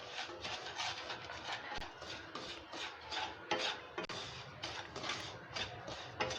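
Semolina roasting in ghee in a pan, a quiet continuous scraping and stirring rustle with rhythmic strokes of a utensil against the metal and no talk.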